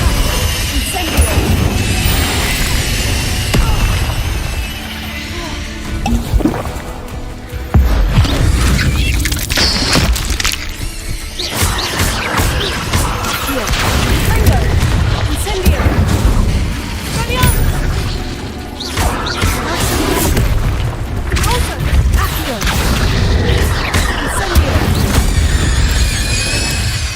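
Incendio fire spells blasting in the Hogwarts Legacy video game, loud repeated booms, crashes and whooshing bursts in a dense, continuous battle mix, with a voice talking over the action.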